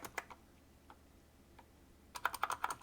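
Arrow keys on an IBM PS/2 Model 77i computer keyboard are pressed with crisp clicks: a few scattered presses at first, then a quick burst of about eight clacks toward the end, close and fairly loud.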